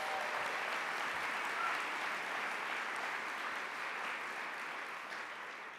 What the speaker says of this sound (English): Let's give every parent in this room a round of applause